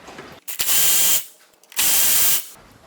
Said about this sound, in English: You also need to take out these two bolts on the front here.